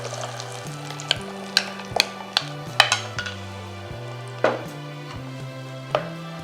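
Urad dal milk being stirred in a pan, with sharp metallic clinks and scrapes of a utensil against the pan at irregular intervals over a soft cooking hiss and a low background tone.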